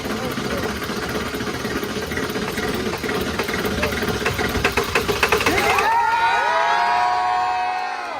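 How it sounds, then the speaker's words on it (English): A Ford F-250 engine running on fuel made from plastic waste idles with a steady knocking rumble, close and loud, while a crowd cheers and people talk over it before it winds down near the end. "the first ever Ford F-250 to run off of plastic waste right here in Chicago"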